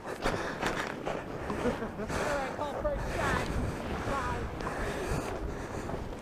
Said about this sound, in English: At least maybe help with some of the wind noise.